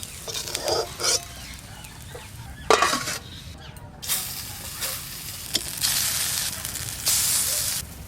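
Kulekhara leaf and lentil fritters (bora) fry in a pan: a soft steady sizzle, punctuated by scraping stirs and brief clatters of a utensil against the pan.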